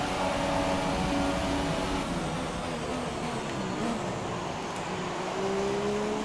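McLaren Formula 1 car engines in the F1 2017 racing game at the Bahrain circuit, a steady close roar with tones that shift slightly in pitch as cars approach, continuous throughout without talk.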